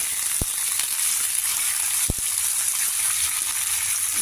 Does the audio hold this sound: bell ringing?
no